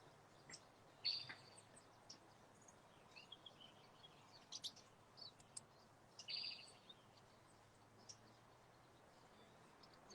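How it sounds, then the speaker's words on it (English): Birds chirp outdoors in a quiet setting, a few sparse, faint calls scattered over a low steady background hush. "The great thing about the silence is there's birds going on, so it's not complete silence."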